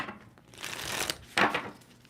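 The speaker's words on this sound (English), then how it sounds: "2 more shuffles for Gemini." A deck of tarot cards is shuffled, giving soft riffling and papery flutter that swells in two short bursts, quiet and close with no voices.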